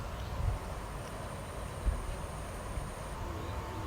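Train at a station, a low rumbling ambience with a couple of dull knocks and a thin sustained whine running through most of it, fairly faint and distant.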